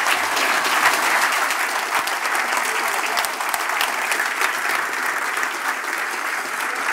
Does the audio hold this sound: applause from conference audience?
yes